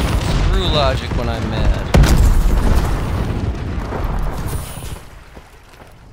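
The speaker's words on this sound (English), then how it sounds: "Enemy bombing run overhead." Explosions from an enemy bombing run in a video game, a loud rumbling boom with a sharp burst near the two-second mark, continuous under someone talking throughout.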